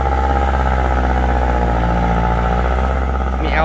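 Kubota L5018 tractor engine fitted with an aftermarket exhaust pipe from a Nakhon Sawan workshop, a loud, steady, throbbing exhaust drone close by, holding an even idle-like rumble throughout.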